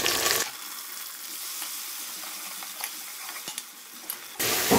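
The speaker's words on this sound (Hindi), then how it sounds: "अब हम इसके अंदर अदरक लहसुन का पेस्ट डालेंगे, साथ में ही मैं टमाटर डालूंगी और इनको फ्राई करूंगी।" Onions, ginger garlic paste and tomatoes sizzle in hot oil in a home kitchen pan, a steady loud frying hiss with soft stirring crackles, starting and stopping abruptly, with no voices.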